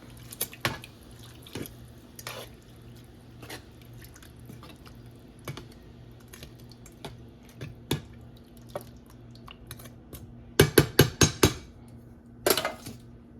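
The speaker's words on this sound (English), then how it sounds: "Let me stir it up." Water for green chile is stirred in a pot, giving quiet liquid swishes and scattered clinks of a utensil against the pot, with a sharper burst of rapid knocks near the end.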